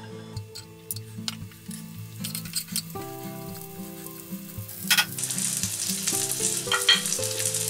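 Chorizo hitting a hot pan, a steady sizzle that grows louder and brighter toward the end, beneath a ticking, tonal melodic background; no speech.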